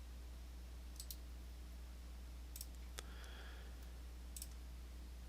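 A computer mouse clicks faintly a few times, sparse single and double clicks over a steady low hum, with no talking.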